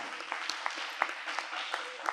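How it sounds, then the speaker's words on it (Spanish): An audience claps in a small indoor church gathering, a quick stream of separate hand claps at moderate distance with a couple of sharper ones standing out, fairly quiet and brief. "Palmas para o grande Melk."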